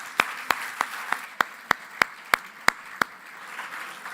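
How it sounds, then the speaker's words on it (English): Sparse, evenly spaced claps, about a dozen sharp hand claps at a steady beat, sound over a quiet room at an awards ceremony, fading near the end. "Please give them a round of applause again."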